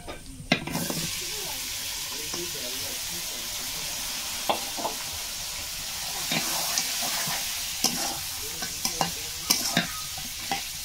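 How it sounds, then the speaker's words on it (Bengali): Duck meat stir-fried with spice paste and chilli powder in a pan, giving a steady sizzle with scraping stirs and occasional sharp clinks of a utensil against the metal, close and fairly loud, with no talking. "মাংসটা কিন্তু ভালো করে কষিয়ে নিচ্ছি।"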